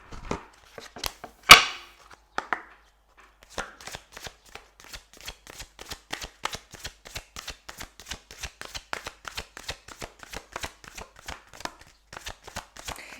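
Tarot or oracle cards shuffled for a reading, a few louder riffles and slaps at the start, then a long even run of quick, close card flicks.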